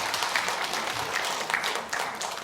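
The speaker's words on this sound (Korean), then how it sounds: "우리 성가대를 위해서 한번 박수하도록 하겠습니다" A church congregation applauds its choir, a dense wash of many hands clapping together in a steady, lively burst heard from within the crowd.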